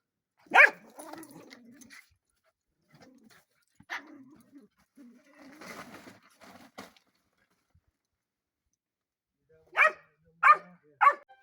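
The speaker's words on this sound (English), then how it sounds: "And he keeps barking" A dog barks in scattered bursts: one sharp bark, a few softer yips and whimpers, then three loud barks in quick succession near the end.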